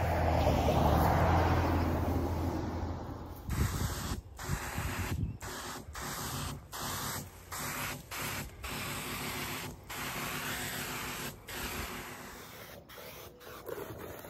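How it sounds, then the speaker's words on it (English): Battery-powered backpack sprayer at work in a church parking lot and flower garden, a steady hissing spray with a quiet pump hum, broken by regular short pauses as the trigger is released. "You can kind of hear the pump as it's working."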